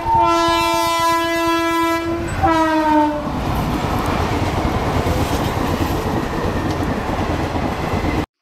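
A train sounds a loud, sustained two-tone horn as it passes a railway level crossing near Talit station, then rolls by close with a heavy continuous rumble and rhythmic wheel clatter.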